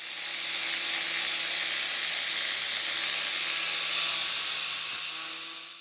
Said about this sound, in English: I then gave it a good clean up with a flat disc, removing any rust and flaky paint